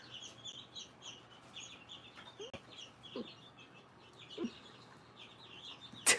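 Chickens at an exotic animal rescue cluck softly in a quiet outdoor setting, with scattered short clucks and low calls spread across the span. A sharper, louder squawk comes near the end, and no one speaks.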